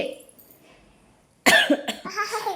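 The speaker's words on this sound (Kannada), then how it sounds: "ಕೆಮ್ಮು ಬಂದುಬಿಟ್ಟೈತಿ." A woman who has had a lingering cough gives a sudden close burst of coughing after a quiet moment, a few rough hacks in quick succession.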